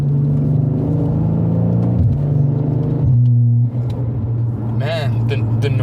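Deep droning engine of a 2017 BMW 540i with the B58 inline-six, pulling through quick gear changes with dips and rises in pitch, heard under a person talking.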